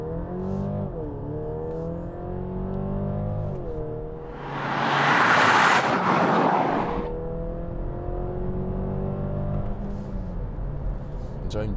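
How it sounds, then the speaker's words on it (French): A 2023 Mercedes GLC plug-in hybrid accelerating hard from rest to 100 km/h in sport mode, its engine note climbing through several gear changes from inside the cabin, with a loud rushing surge midway. "je vais vous faire un petit 0 à 100 km/h pour faire parler la poudre"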